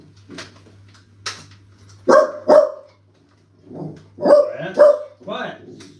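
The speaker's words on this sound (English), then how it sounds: "They love barking." Several dogs bark in short bursts, a couple of sharp barks followed by a cluster of quicker yips, loud and close with a steady low hum underneath.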